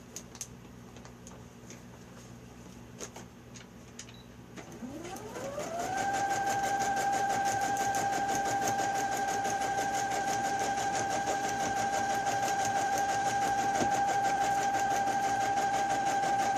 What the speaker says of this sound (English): And we're going to sew it down.